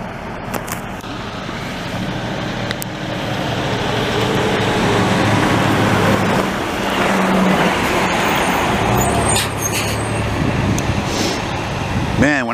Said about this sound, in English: We've got a couple of trucks coming in there.